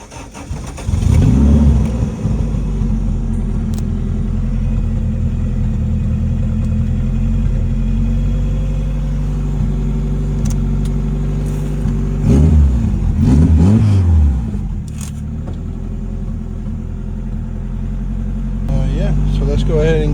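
A race car engine turns over and catches, then settles into a loud, close idle and rumble. Two throttle blips rise and fall briefly, the engine roars again near the end, and faint voices sit underneath.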